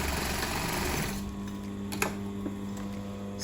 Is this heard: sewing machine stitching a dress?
yes